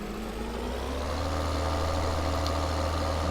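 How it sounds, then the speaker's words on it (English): Steady, loud drone of a tractor engine in Farming Simulator 2013, a continuous low rumble with a constant idling tone and no pauses. "this tractor's kinda loud"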